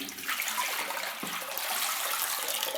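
Water runs steadily while rinsing developed medium-format film shot on a Mamiya RZ67, a continuous splashing flow close by that fills the whole moment without pause.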